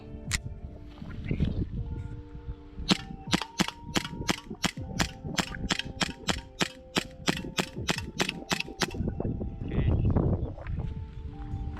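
A WE Hi-Capa 5.1 airsoft pistol fires a long even string of about twenty sharp, close cracks, with handling noises and movement before and after.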